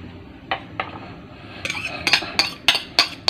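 Eggs, vegetables and crab stick are whisked together for an omelette, with a utensil tapping and clinking against the bowl, the strokes growing quicker and louder toward the end, close by with no voices.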